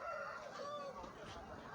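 A rooster crows faintly in the distance against a quiet outdoor background.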